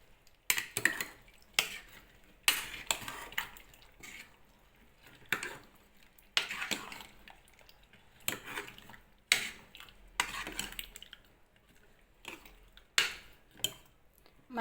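A spoon stirs dal rasam with onions, turmeric, salt and water in a pot, giving sharp intermittent scrapes and clinks in irregular strokes over a quiet background.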